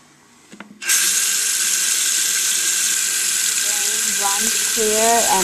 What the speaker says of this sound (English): Clear and the water's going down nice and easy.